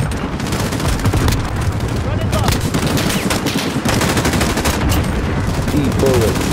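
Rapid machine gun fire in Call of Duty: Modern Warfare Survival Mode, loud dense bursts rattling almost continuously with booms mixed in, a voice talking briefly underneath.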